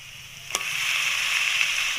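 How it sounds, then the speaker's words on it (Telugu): Chicken is dropped into a pan of fried onions for a chicken curry: a single sharp thud, then an immediate loud, steady sizzle that carries on close and unbroken. "ఇప్పుడు ఈ చికెన్ని మనం ఆనియన్స్ ఫ్రై అయిపోయాయి కదా, అందులో వేసుకుందాం."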